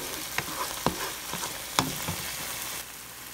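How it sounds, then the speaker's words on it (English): Oyster sauce and garlic stir-fry in a hot pan for crawdads, a steady sizzle broken by several sharp utensil scrapes and knocks against the pan, close and clear with no talking. "And just stir it with the garlic."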